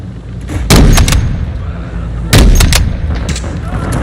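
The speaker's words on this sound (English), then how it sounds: "Hostile mortar strike incoming." Two heavy mortar strikes land in a shooter video game, each a loud booming blast at about one and two and a half seconds, followed by quick secondary cracks and a lingering rumble.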